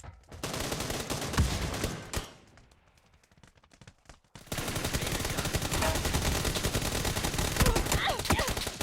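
Rapid bursts of automatic gunfire in PUBG, loud and dense, broken by a short quieter stretch before heavy firing resumes.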